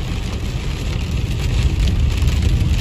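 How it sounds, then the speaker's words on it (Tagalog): Steady rain falls during a storm in Los Angeles, a dense, constant hiss that grows slightly louder over the few seconds, with no voices. "ganyan po ang ulan dito."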